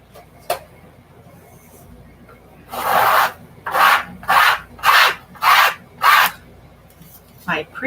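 Scraping across a yellow painted board, heard as five or six rhythmic rasping strokes of about half a second each, fairly loud and close, following a quiet stretch with a single earlier scrape.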